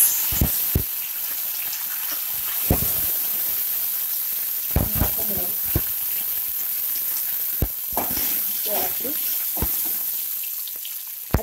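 Curry leaves are dropped into hot oil for tomato chutney, giving a steady, close sizzle with sharp crackles and pops scattered throughout.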